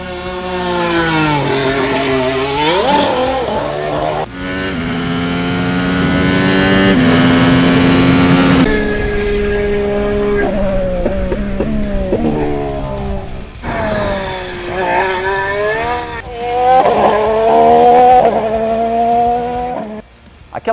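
A McLaren Formula 1 car's engine screams loud and close, its pitch climbing and dropping repeatedly through rapid gear changes over a long sustained run.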